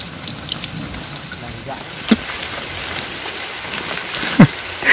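Light rain patters outdoors under a bridge by a river, a soft, steady wash of drops with a few louder splashes and knocks close by.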